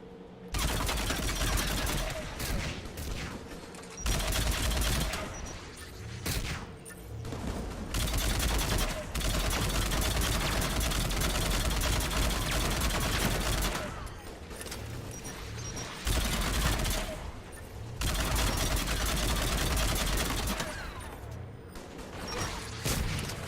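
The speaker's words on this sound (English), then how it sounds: "AA guns ahead." Sustained anti-aircraft gunfire in the sci-fi shooter Mass Effect 3, loud dense bursts and booms rolling almost continuously with brief lulls, a voice faintly underneath.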